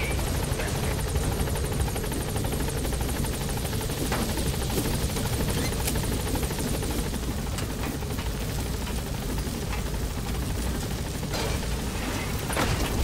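In Metal Gear Solid V, the Pequod helicopter lifts off with a loud, continuous thudding rotor roar and engine whine, close and steady throughout with faint mechanical rattles over it.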